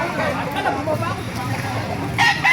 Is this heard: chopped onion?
no